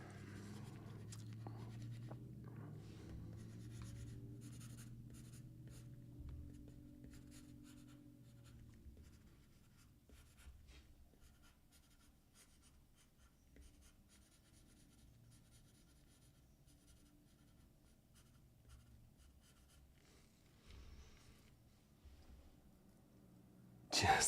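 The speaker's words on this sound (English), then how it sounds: "Drawing with the pencil today, just because I wanna play around with the inking style," Graphite pencil sketching on paper while designing weapons and swords, a soft continuous scratching and scraping of strokes at close range, louder in the first few seconds, then quieter steady shading with a small bump at the end.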